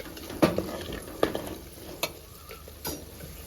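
A spoon stirs fish curry in a pan after the ingredients go in. A few distinct scraping strokes ring out over a soft, steady sizzle, with no one talking.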